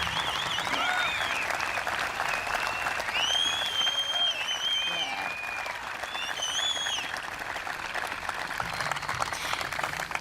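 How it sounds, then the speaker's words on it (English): Steady audience applause after a Kumari dance performance at an Australia Day morning ceremony, dense continuous clapping from a large outdoor crowd with faint whistles or cheers rising above it, holding at an even level throughout. "Can we please have another round of applause?"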